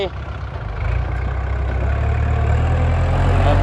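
A tractor engine runs at a land-filling site, a heavy low rumble that builds slightly and holds steady, fairly close.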